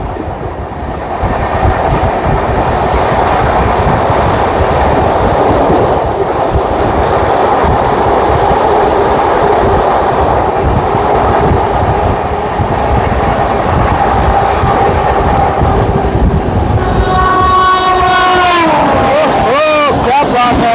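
The Vindhyachal Express races past at about 130 km/h full speed, a loud, continuous roar of wheels and rattling cars close by, ending with a wailing horn; a voice speaks over it.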